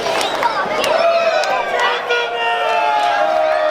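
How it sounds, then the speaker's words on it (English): Wrestling arena crowd at a CCW show cheering loudly and continuously, a dense roar of many voices with shouts rising through it and no break. "The crowd actually cheering,"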